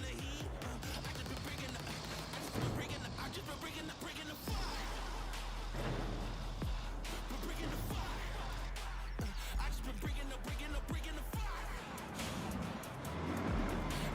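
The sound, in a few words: truck engine in the video game Roadcraft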